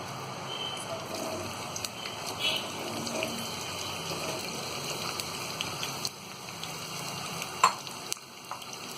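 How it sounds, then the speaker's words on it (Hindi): Cut cauliflower fries in hot oil with a steady, crackling sizzle and scattered spits, while utensils clink and stir the pieces now and then. "अब इसमें हम ये कटे हुए गोभी डाल देंगे।"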